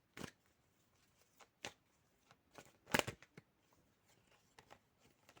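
A few quick riffling bursts of tarot cards being shuffled, separated by quiet gaps, close and fairly faint.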